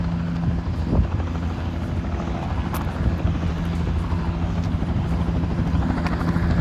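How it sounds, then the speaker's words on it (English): A helicopter lands nearby outdoors, its steady rotor drone and low-frequency thrum filling the whole stretch at an even, moderately loud level with no talk over it. "sorry about the helicopter that's landing to the left of me."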